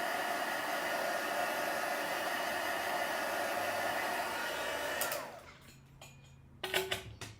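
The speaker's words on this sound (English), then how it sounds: "pick up my heat tool and I'm just going to give that a quick dry off" Steady broadband whoosh of a heat tool drying embossing ink for a papercraft project, loud and continuous for about five seconds before switching off, followed by a few faint handling clicks and bumps.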